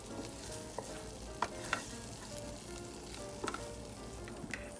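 Shrimp cooking in oyster sauce in a hot pan: a soft, even sizzle persists throughout, with a few sharp utensil clicks and scrapes scattered over the short stretch.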